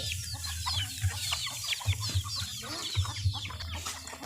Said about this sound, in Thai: มีแต่ไก่กับไก่